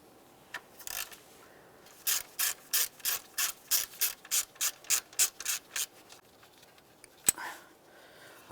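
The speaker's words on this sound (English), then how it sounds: "now we can remove our 13mm bolt that holds this idler pulley to the bracket" Ratchet wrench loosening the 13mm idler pulley bolt on a Dodge Journey serpentine belt bracket, a close run of about a dozen rhythmic raspy clicking strokes, followed by a sharp metallic tap.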